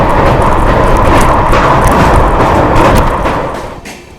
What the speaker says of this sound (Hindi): अपनी अमृत भारत एक्सप्रेस सोन रिवर के ऊपर से निकल रही है।